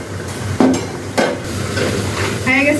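Snacks fry slowly in oil until crisp, a bubbling sizzle sitting under loud metal clanks and scrapes of a utensil against the pan, with a brief tonal clatter near the end.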